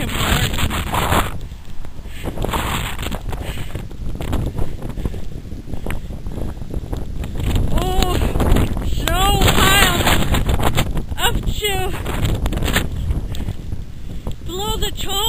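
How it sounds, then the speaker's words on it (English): A fierce, cold winter gale roars steadily and loudly across the microphone, a constant rushing buffet with gusty surges and some rattling and flapping, heard alone without any talking. "Fierce gale of cold wind blowing everywhere."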